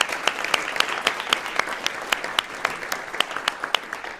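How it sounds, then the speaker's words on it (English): Audience applause at a trumpet masterclass, a quick round of dense clapping with sharp individual claps standing out, steady and moderately loud throughout with no talk over it. "Quick applause,"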